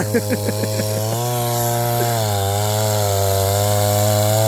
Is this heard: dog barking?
no